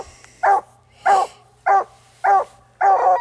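A young coonhound barks during a night raccoon hunt in the woods, five loud, evenly spaced barks from a moderate distance.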